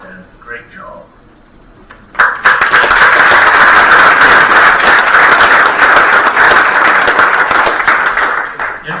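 Audience applause at a school board meeting bursts in after a brief spoken line and continues loud and dense, many hands clapping steadily for several seconds.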